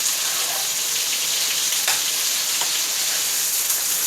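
Pork pieces for carne guisada browning in a hot pan give a loud, continuous sizzle and crackle, with a few faint scrapes of stirring and no talking.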